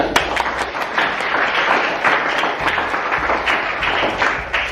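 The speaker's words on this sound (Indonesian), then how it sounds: "Oke, tepuk tangan." Classroom applause from a group of students, a short burst of hand clapping with distinct sharp claps, fairly close and steady, with a faint low hum underneath.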